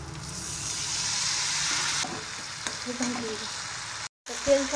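Spices sizzle and fry in hot oil with softened tomatoes for a Marathi black val bean curry, a steady close hiss with occasional stirring clinks and a brief dropout near the end.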